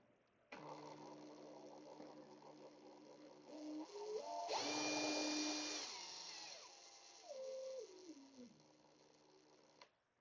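Ryobi brushless compact impact driver from the ONE+ HP line, its motor whine rising from low through high speed up to about 2900 RPM, then stepping back down; loud and close, with no talk.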